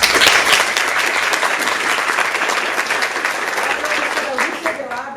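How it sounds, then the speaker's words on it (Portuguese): Audience applause welcoming a university professor onto a round-table panel, loud sustained clapping that thins gradually over several seconds, with voices murmuring beneath. "recebam com aplausos"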